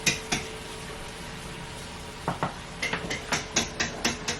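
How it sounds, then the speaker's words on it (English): Metal pan clattering as it is lifted out of an oven and set onto a stovetop, with a few sharp knocks early on and a quick run of clanks and scrapes toward the end, close by. "I would like you to lift the pan and put it on top of the stove"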